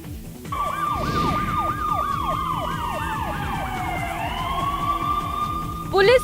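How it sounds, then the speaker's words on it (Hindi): A loud police car siren wails close by, cycling through rapid yelping sweeps before settling into a long falling tone, with traffic noise beneath. "पुलिस की गाड़ी का सायरन सुनकर भागता आरोपी"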